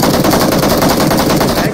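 Rapid automatic gunfire fills a multiplayer shooter match, a loud, dense burst of closely spaced shots that runs continuously without pause.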